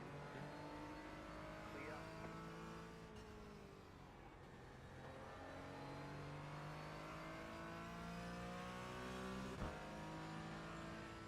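Race car engines in a night endurance racing video game whine and rise in pitch as several cars accelerate and pass, overlapping at moderate distance.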